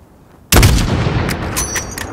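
A single loud sniper rifle shot in Call of Duty Modern Warfare cracks out after a moment of quiet, then a long rolling echo fades away behind it.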